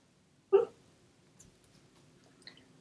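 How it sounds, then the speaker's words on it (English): A sleeping dog under a table lets out one sharp, brief whimpering yelp, followed by faint soft snuffles and small sounds in a quiet room. "And my dog is in here having a little doggy dream."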